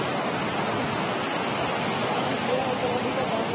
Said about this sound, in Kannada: ನೋಡಿ, ಇದು ಜೋಗ ಜಲಪಾತ.